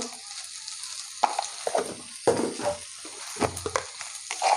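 Chili powder hits potatoes and figs frying in oil, a low steady sizzle punctuated by repeated stirring scrapes and soft knocks of a spoon in the pan, near and moderate.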